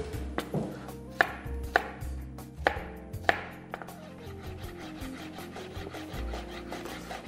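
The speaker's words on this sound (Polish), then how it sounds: "Pokroimy drobno szalotkę" Shallot finely chopped with a knife on a board, a quick run of crisp, close, steady taps with a few louder strikes, heard alone.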